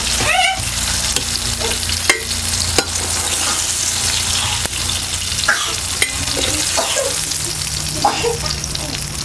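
Rava-coated rohu fish frying in hot oil, a loud dense continuous sizzle with occasional sharp clicks and scrapes from turning the pieces, close and constant throughout, with no talking.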